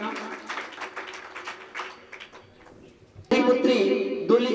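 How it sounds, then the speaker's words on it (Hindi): Applause welcomes a student at a school award ceremony at Shambhu Giri Senior Secondary School, Kanwari. The clapping bursts in loudly after a stretch of talk and carries on to the end. "जोरदार तालियों से स्वागत छात्र का"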